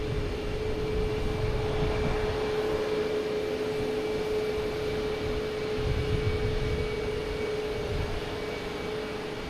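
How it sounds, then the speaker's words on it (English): Airbus A330 jet airliner at Boston Logan Airport, a continuous rushing engine roar with a steady whine, fairly loud and even, easing slightly toward the end, no voices. "We got Delta A380, A330 heading back to Amsterdam."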